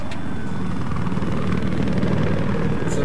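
Helicopter rotor chopping in a video game firefight, a steady loud low thrum running through the whole stretch with no talk over it.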